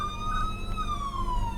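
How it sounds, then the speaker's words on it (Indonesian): An ambulance siren wails with a long descending sweep, moderately loud and slightly distant, with faint traffic rumble underneath. "ini adalah ambulans"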